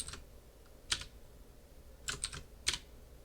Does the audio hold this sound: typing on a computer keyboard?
yes